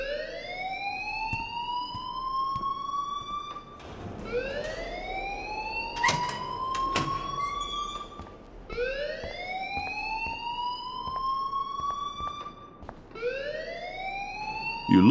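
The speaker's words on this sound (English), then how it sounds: "please turn off that alarm since that's your job" Alarm in the video game Life is Strange wails in loud rising siren sweeps that repeat about every three seconds, with brief clatters and ticks in between.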